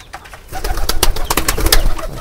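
Pet pigeons coo close by at midday feeding time, their soft throaty calls rising and repeating over about two seconds.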